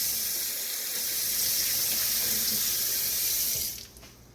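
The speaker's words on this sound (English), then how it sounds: "I got to turn the cold water on" Cold water pours steadily from a kitchen tap during home tomato canning, a loud, even hiss of running water that is cut off abruptly near the end.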